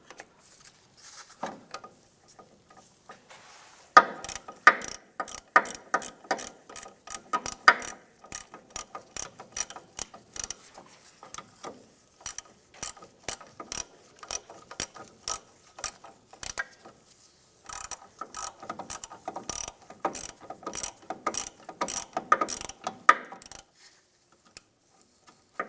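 A hand ratchet snugs down the starter power cable nut on a 2003-2011 Honda Element, giving long runs of rapid, crisp clicking pawl strokes with brief pauses between bursts, close and alone with no talk.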